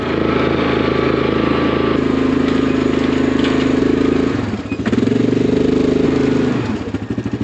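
A quad ATV engine labours steadily up a hill, loud and close, its drone holding then dipping briefly before straining again, with no one talking.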